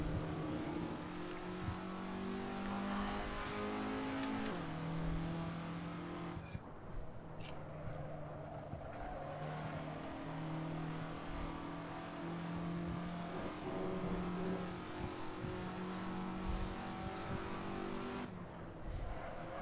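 A race car engine roars steadily in a sim racing game, its pitch climbing through the gears with brief drops at each shift, loud and continuous throughout with no talking.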